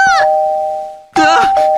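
A doorbell in the Minecraft video game rings over and over as one steady, insistent tone that keeps going while excited voices shout over it.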